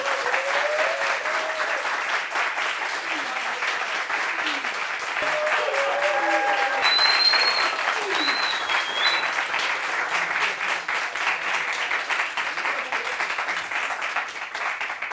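A studio audience gives a guest steady, even applause that runs continuously and fairly loud throughout, with faint cheers and vocal whoops rising over the clapping.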